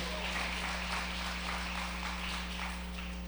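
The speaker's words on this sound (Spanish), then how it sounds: "Dale ese aplauso al Rey." Church congregation applauding during a Spanish-language sermon, a steady wash of clapping over a low mains hum, continuous and moderately loud throughout.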